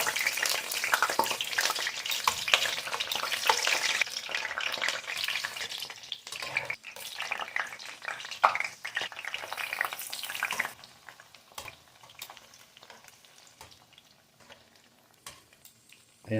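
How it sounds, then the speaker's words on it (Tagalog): Eggplants fry in a hot pan with a steady, close sizzle and crackle that stays strong for about ten seconds, then drops to a quieter simmer with occasional stirring clatter. "Ang una natin gagawin guys ay prituhin muna natin ang mga talong."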